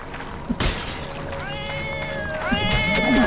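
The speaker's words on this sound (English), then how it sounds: "the cat sounds so annoying" Cat meows and yowls from the FATE dungeon-crawler video game, a few short rising cries among game clatter and effects, with a sharp shattering crash early on.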